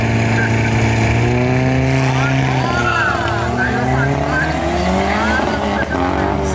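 A Chevrolet Caravan Turbo and a VW Jetta TSI 2.0 racing on a drag strip, with loud engines revving up and shifting as they pass, while excited voices shout over the roar.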